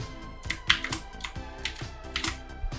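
Text being typed on a computer keyboard, a brisk run of close, crisp key clicks in an uneven rhythm with a few sharper taps, no voices.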